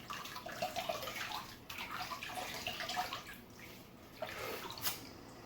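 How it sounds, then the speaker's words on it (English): Water runs steadily from a tap to rinse during a wet shave with bowl-built lather, a soft continuous splash with faint shifts as it hits the basin. "I'm gonna rinse."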